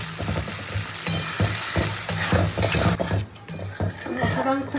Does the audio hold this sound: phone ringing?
no